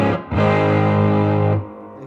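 An electric guitar plays a sustained distorted chord through a Louis Electric Gattone amplifier with the mid-range cut, loud and close, ringing for over a second before being damped, with no voices.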